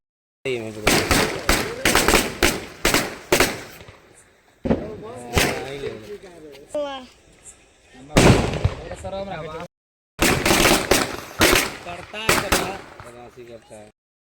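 Rapid sharp Diwali firecracker bangs in dense bursts, close and loud, with short pauses between volleys and voices talking and calling out in between.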